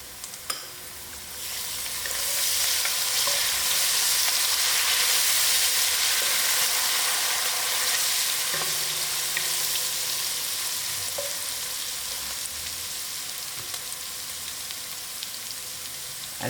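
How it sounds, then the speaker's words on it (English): Ginger garlic paste sizzles steadily in a hot pan, a loud continuous frying hiss that swells after the first couple of seconds and holds, with a few faint clinks of stirring. "Then I'll add in my ginger garlic."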